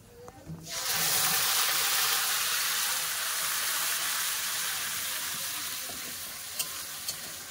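Ginger and tomato paste hit hot oil after a brief quiet start, then sizzle loudly and steadily, with a couple of faint clicks near the end.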